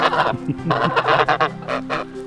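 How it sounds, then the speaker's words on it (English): Geese honk in a loud, close series of nasal calls that come in several overlapping bursts over a couple of seconds, with no talking. "Good morning, goosey goosies."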